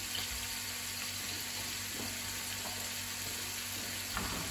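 Dried chili and fresh rosemary sizzle in a frying pan with a soft, steady crackle at moderate level, no voices over it.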